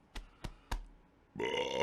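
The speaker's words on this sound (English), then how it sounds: "Got a burp coming." After three sharp knocks or taps, a man lets out a loud, raspy burp lasting about half a second, close to the microphone.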